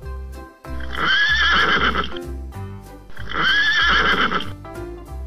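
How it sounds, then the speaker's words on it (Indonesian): A brown horse whinnies twice in close, loud succession, each neigh a long shrill, shaking call that rises and falls, separated by a short pause. "Ada kuda, teman-teman. Warna coklat."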